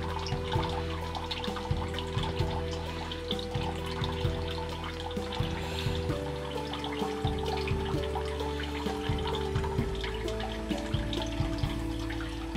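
Water from a tap running steadily into a bathroom sink during a shave, a constant close splashing stream with small gurgles and drips and no voices.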